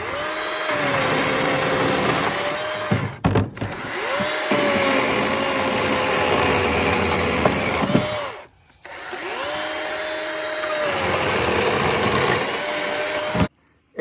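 A fallen, dry, seasoned tree limb being cut up with a power saw, which whines loudly and steadily through three long cuts separated by brief pauses.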